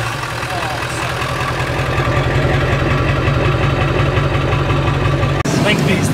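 Car engine idling steadily in the snow, a loud, close, even rumble with a brief break near the end, while people talk.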